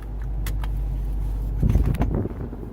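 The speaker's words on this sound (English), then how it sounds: "I'm gonna leave the car running." A car engine idles steadily close by on a Mojave Desert movie set, a low continuous rumble that continues as brief clatter and handling noises rise over it near the end.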